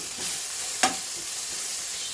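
Onions and ginger frying in a pan for a beef roast, a steady sizzle with one sharp scrape of stirring partway through, close and alone without talk.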